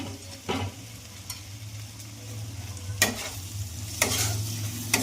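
Chopped tomato with cinnamon, cardamom, cloves and salt frying in spiced oil, a steady sizzle over a low hum, punctuated by several sharp spatula scrapes as the mixture is stirred, close and without talk.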